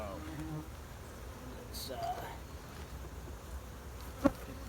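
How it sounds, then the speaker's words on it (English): Honeybees buzz around two hives during sugar water feeding and inspection, a continuous close drone with someone speaking briefly over it and a sharp click near the end. "get the bees off of here"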